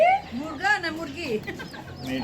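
Chickens clucking at close range in a rural yard, several short throaty clucks and calls in an irregular run, with people's voices mixed in among them.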